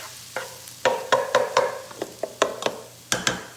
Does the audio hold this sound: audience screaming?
no